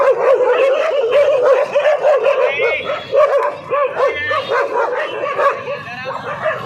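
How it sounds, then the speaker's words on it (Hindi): Several friendly street dogs bark and whimper amid a crowd gathered at a protest, their yips and whines layered over steady talk from nearby people. "ये क्या सोसाइटी से बाहर निकाले हुए डॉग हैं?"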